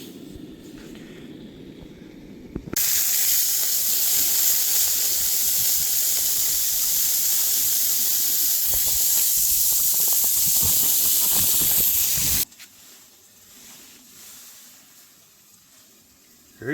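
Burgers seasoned with smash seasoning sizzle loudly on a hot cooking surface outdoors on an ice fishing trip, a steady, close hiss that starts abruptly and cuts off after about ten seconds.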